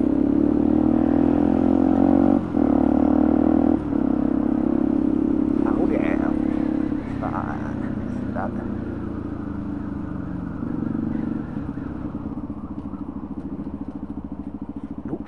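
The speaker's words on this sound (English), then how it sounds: "Oh, that's one of them three-wheeled ones. I think that it's the Yamaha Tricity 300." A Yamaha Tricity 300 three-wheeled scooter passes nearby with a steady engine drone that shifts in pitch and slowly fades, heard over a continuous low road hum.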